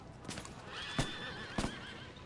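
Horses neigh and hooves clip-clop amid video game warfare, two sharp whinnies standing out over a steady busy background of galloping and battle noise.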